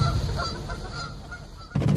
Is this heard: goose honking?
yes